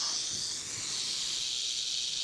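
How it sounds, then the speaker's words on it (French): A North American rattlesnake giving a continuous dry, buzzing hiss-rattle, close and steady for a couple of seconds. "C'est le fameux serpent à sonnette d'Amérique du Nord."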